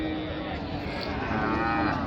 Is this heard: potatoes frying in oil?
no